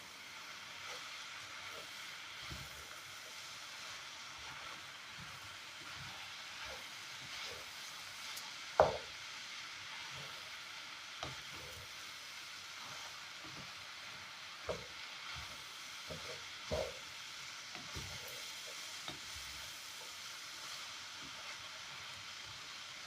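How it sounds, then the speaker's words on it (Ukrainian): Shredded cabbage fries in an open pan, a steady broadband sizzle and hiss running throughout, broken by scattered sharp clicks and scrapes as it is stirred, with one louder clack near the middle. "І знову буду перемішувати і її пересмажувати."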